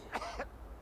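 Short double cough from a patient in a paramedic simulator video game on PS5, two quick bursts close together and moderately loud, with no other sound.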